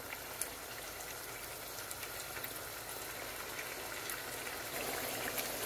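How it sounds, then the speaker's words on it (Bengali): Naga chili pickle with tamarind comes to a boil in a pot, a steady close bubbling and fizzing that grows slightly louder toward the end, with no voices. "আমার আচারে বলক এসে গেছে"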